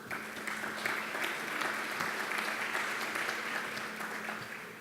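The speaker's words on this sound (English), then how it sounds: "Martin Tett, round of applause." Applause from a conference audience fills the room steadily for about five seconds, a dense even patter of many hands clapping at moderate loudness with no talking over it.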